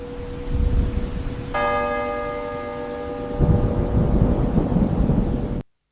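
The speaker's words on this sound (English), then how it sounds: "It was the bell. The Carillon Tower rang across the campus" A carillon tower bell on a university campus strikes a loud, ringing chime that lingers and decays over steady heavy evening rain and low rumbling.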